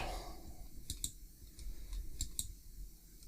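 Mouse clicks through menus in 3ds Max: a handful of quiet, sharp clicks spaced irregularly over a low background hum.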